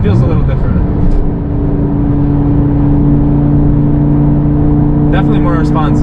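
A BMW E60 M5 fitted with a Dinan throttle booster pulls along under steady acceleration, its engine drone loud and close with a high whirring tone, and brief voices come in near the start and end.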